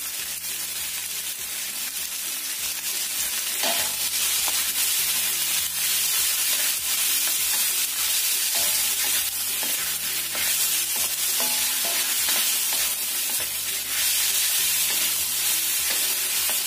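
Chicken meat and meatballs stir-fry in a hot pan, with a steady sizzle under repeated rhythmic scraping and tossing strokes, close and even throughout, with no talking.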